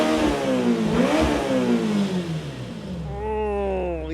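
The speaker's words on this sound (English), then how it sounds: "Middle of that rev range is just beautiful." The engine of a 2028 Audi Nuvolari supercar sweeps up and down through its rev range in one loud, close, continuous blip, then settles into a steadier, smoother drone near the end, with no talking.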